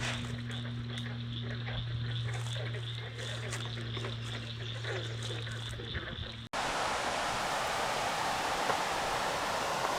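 Very loud waterfall, a roaring wall of broadband rushing water that fills the second half after an abrupt cut, preceded by a chorus of croaking frogs at a pond.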